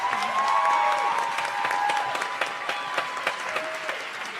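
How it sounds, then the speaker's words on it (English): Audience applause for the Oswego Gospel Choir, a dense burst of clapping from a concert crowd that thins out into scattered claps over a few seconds. "let's give the Oswego Gospel Choir another round of applause"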